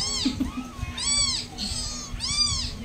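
Several abandoned kittens meowing in high, repeated cries, close by, with overlapping calls and brief gaps between them.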